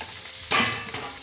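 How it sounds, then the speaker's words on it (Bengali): Boiled carrot, broccoli, beans and peas land in a hot pan and are tossed, giving a sudden burst of sizzling over steady frying noise, near and fairly loud. "বয়েল করা সবজিগুলো আমি দিয়ে দিচ্ছি।"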